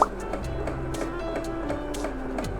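Household sewing machine stitching with its speed lever at the lowest setting, giving a steady, soft mechanical whir with faint regular ticks; no talking.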